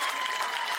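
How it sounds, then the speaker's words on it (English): Applause from a crowd at a high school football game between the Athens Golden Eagles and Decatur Red Raiders, a brief, steady wash of distant clapping. "give him a big wave and a round of applause for 29 years of incredible Red Raider football"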